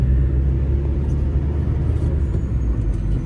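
A red Maharashtra state transport bus engine rumbles steadily, a loud, close, low drone with constant road noise and no speech.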